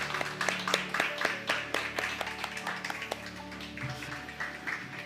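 Church congregation claps in thanks after a baptism service, a fairly quiet, rhythmic round of hand claps lasting several seconds over a low sustained hum, fading toward the end.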